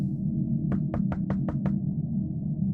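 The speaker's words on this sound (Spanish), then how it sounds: "de repente escuché un golpe en la puerta de mi casa" Six quick knocks land on a house door in an even run, sharp and fairly close, over a steady low rumble of background noise.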